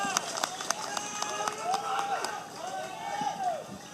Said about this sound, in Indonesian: Beri tepuk tangan yang paling meriah untuk Pak Prabowo.